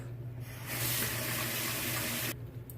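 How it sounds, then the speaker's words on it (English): Tap water runs in a bright, steady gush as hands are rinsed beneath it, starting after a short quiet lead-in and stopping abruptly near the end, close and alone. "I'm going to rinse my hands off"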